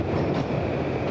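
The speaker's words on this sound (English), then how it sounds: "These 4 tracks on the New Haven Metro North line are some of the busiest in the nation, carrying hundreds of thousands of passengers and trains each day." Metro North commuter train running on the busy four-track New Haven Line near the Norwalk River bridge in Connecticut, a steady, loud, continuous rumble of rail traffic close by with no clear breaks.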